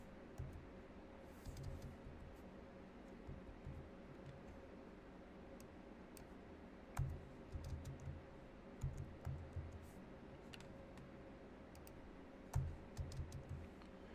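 Soft computer keyboard typing while Java code is written, quiet scattered bursts of key clicks with short pauses between them over a faint steady room hum.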